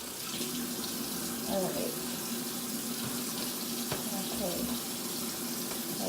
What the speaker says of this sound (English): after that is when we turn off the water